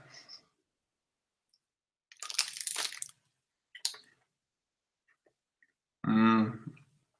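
Crunching bites into a protein bar and carrot come in short, close bursts separated by silence, with no talking and a louder chewing burst near the end.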